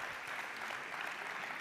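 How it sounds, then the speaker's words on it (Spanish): An audience at a Spanish gastronomy event claps steadily, a brief burst of dense, even applause at moderate distance with no talk over it. "Le damos un fuerte aplauso a nuestro compañero y amigo"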